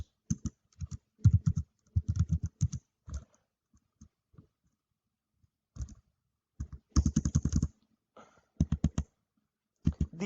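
Bursts of computer keyboard typing, clusters of quick keystroke clicks separated by short pauses, fairly close and clear with no voices over them.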